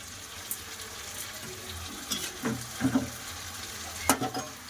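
Taro and potatoes frying in a pan with ground spice paste, turmeric and salt: a soft, low sizzle under a few louder stirring scrapes, fairly quiet overall.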